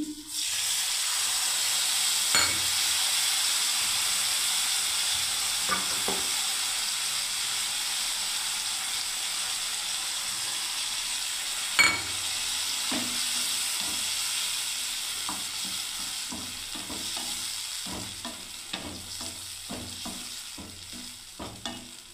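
Poppy seed paste added to a sizzling paneer curry gives a loud, steady frying hiss that carries through, with scattered stirring clicks growing more frequent toward the end.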